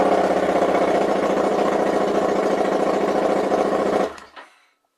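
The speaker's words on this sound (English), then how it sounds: "I'll fire the bike up" A 2017 Harley-Davidson XG 750 Street motorcycle runs with its exhaust removed, parked in a shed: a loud, steady, rapid mechanical chatter that holds for about four seconds, then cuts off abruptly and dies away.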